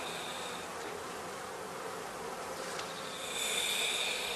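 Bees in a heather skep apiary in spring give a dense, steady buzzing hum that stays close and continuous, swelling slightly louder toward the end, with no voices.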